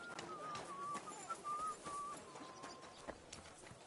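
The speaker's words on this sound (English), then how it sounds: "Are you whistling just for fun?" A person whistles a short, thin tune in the Kingdom Come: Deliverance 2 video game, faint and somewhat distant over a soft murmur of background ambience, lasting a couple of seconds before fading out.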